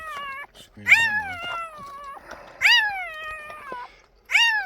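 Newborn puppies squeal during a birth, with several high, wavering cries in short bursts, close and loud, separated by brief pauses.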